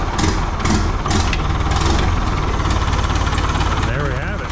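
Old International dozer engine turning over and settling into a rough, loud diesel idle, a dense rumbling clatter throughout with vibration and some speech over it.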